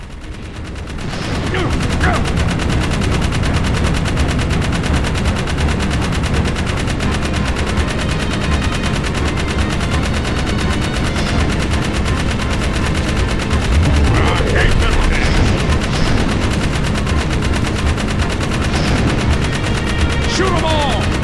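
Sustained video-game gunfire from Jak 3, a dense continuous barrage of rapid shots with booms layered in, loud throughout nearly the whole stretch, with people talking excitedly over it.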